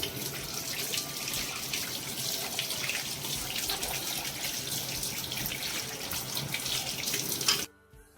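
Pumpkin pieces washed under a running kitchen tap, a steady close hiss and splash of flowing water lasting several seconds before it abruptly stops.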